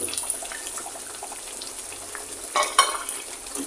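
Potatoes dropped into a pan of frying bitter gourd and pangas fish, a quiet sizzle with light stirring and a louder splash and crackle near the end.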